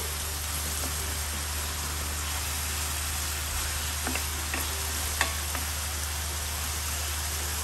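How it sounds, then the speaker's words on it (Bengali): Jute leaves and small fish being stirred as a chorchori in a pan, a steady soft sizzle with a few scraping clicks from the utensil near the end, no voices. "দেখুন একটু দেখুন, আমি এভাবে করে নাড়া দিচ্ছি।"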